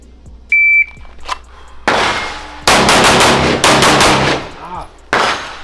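Seven pistol shots ring out at a shooting range, loud and close in quick uneven bursts, after a brief electronic beep; the blasts overlap and stretch across several seconds.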